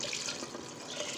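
Soaked rice tipped into a pot together with its soaking water while making Tamil kushka, a plain biryani, giving a steady close watery pour and splash that runs evenly for the whole moment, with no talking.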